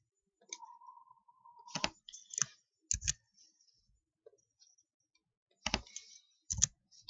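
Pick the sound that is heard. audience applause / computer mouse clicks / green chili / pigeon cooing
computer mouse clicks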